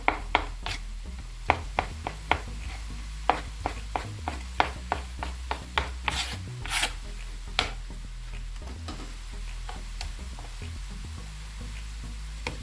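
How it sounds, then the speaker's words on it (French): Chicken liver is chopped into small pieces on a board with a knife, giving a series of sharp, close taps at an uneven rhythm that thin out and then stop. "il faut l'émincer en petits morceaux"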